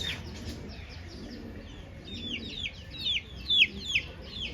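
Hen at a poultry seller's in Nellore clucking in short, rising calls that grow louder toward the end, over a low background hum.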